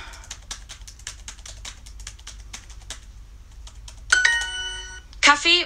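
Rapid typing on a computer keyboard during a language-learning exercise, a dense run of close, crisp key clicks that thins out, followed by bright electronic chime tones.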